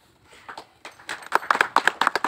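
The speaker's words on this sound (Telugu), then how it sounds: "ఇది బాగుంది, ఎవరు చప్పట్లు కొట్టడం బాగుంది." Audience clapping at a film event: scattered claps that grow into a dense, rhythmic burst of nearby hand claps.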